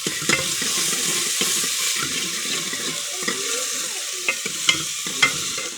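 Masala spices fry in a pan at home, a continuous bright sizzle with occasional spoon clinks and scrapes scattered across the clip, and no speech.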